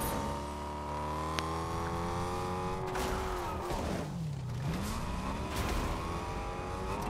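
A vehicle driven in a video game, its engine droning steadily with tonal revs that rise and fall, then a swooping pitch dip as it swerves, with tire squeal and road noise continuing.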